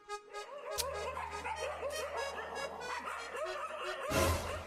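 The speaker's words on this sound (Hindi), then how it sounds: "अरे बाहर कुत्ते भौंक रहे हैं," Dogs bark and yip somewhere outside, several sharp calls scattered over a low steady hum, with a louder burst near the end.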